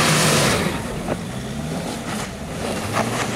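A bus driving past on a street, a loud broadband engine and tyre rush that starts near and fades as it moves away, followed by quieter traffic rumble.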